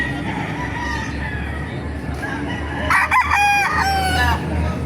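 Chickens and a rooster at a poultry market in Baliuag, Bulacan, with a loud rooster crow near the middle rising over steady clucking and crowd murmur, plus fainter crows in the background.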